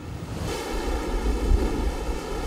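Rough sea waves wash near an anchored fishing boat off Chuja Island, a steady rumbling surge of surf mixed with wind buffeting the microphone, swelling louder midway.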